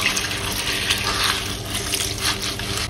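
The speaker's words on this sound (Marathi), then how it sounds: "त्याच्यावर स्वच्छ पाणी घालायचं" Clean water is poured over soaked horse gram sitting in a sieve, a steady, close splashing and trickling that runs unbroken for the whole three seconds with no voices.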